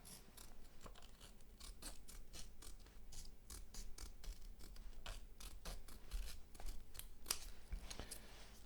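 Scissors snip repeatedly through a peeled-off adhesive strip being trimmed for a headphone pad mod, a quick series of close, crisp cuts and small scratchy handling sounds.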